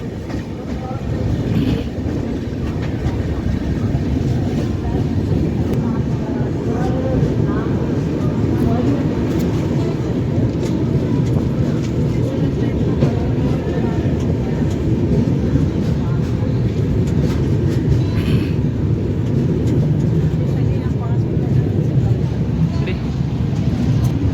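Indian Railways train at Gwalior Junction on a Mathura to Nagpur journey, a loud, continuous roar of rolling wheels and rushing carriages with faint clicks, a voice talking now and then.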